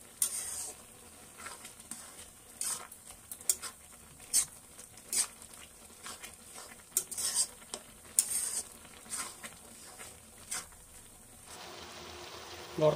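Carrot halwa with sugar being stirred in a pan: quiet, irregular scraping and soft clinks of the spoon against the pan, heard alone at close range.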